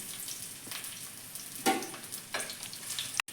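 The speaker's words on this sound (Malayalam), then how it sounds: "ഇനി നമ്മൾ കറിവേപ്പില ഇട്ട് കൊടുക്കുകയാണ്." Curry leaves, ginger, garlic and green chilli fry in oil with a soft, steady sizzle and crackle, broken by a few louder spitting bursts and stirring sounds, then cut off abruptly near the end.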